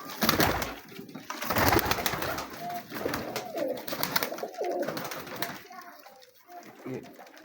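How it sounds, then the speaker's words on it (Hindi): Teddy pigeons coo in low, rolling calls over a noisy background, with children's voices and other chatter mixed in. "ये सारे मैरों वाले टैडी कबूतर हैं"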